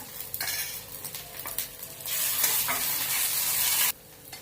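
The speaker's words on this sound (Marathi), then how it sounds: "आलं लसूण पेस्ट परतून झालेली आहे" Ginger-garlic paste sautéed with onions in hot oil for paneer bhurji gives a sizzling hiss with spoon stirring and scraping against the pan, swelling louder midway and then dropping off sharply near the end.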